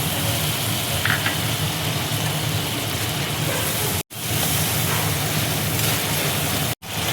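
Tomato and spice paste sizzles steadily in a hot frying pan while cooking a vegetarian jackfruit echor curry, a loud continuous crackling hiss with two brief cuts, close up and with no voices.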